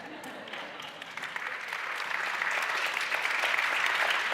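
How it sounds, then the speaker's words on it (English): Applause from a conference audience at a climate ideas session, a steady wash of clapping that starts moderate and builds to louder, fuller clapping over several seconds. "We got a second applause line, but it's for Nancy Pelosi."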